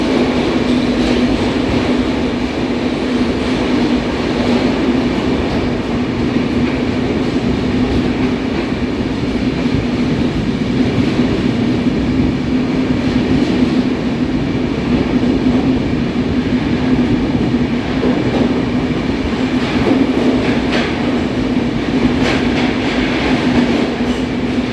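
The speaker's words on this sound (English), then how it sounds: "We are crossing the Karpute tunnel, which is the longest tunnel on Konkan Railway." From inside the Kochuveli–Mumbai express on the Konkan Railway, the train runs through the 6.5-kilometre Karbude tunnel with a loud, enclosed, continuous roar and hum, a steady drone and faint wheel clatter throughout.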